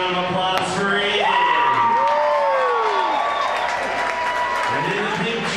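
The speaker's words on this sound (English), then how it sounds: "Let's have a round of applause for Aiden." Crowd at a county fair kids' Power Wheels demolition derby claps and cheers for a young driver in a red Jeep, steady applause with scattered whoops beneath an announcer's amplified voice.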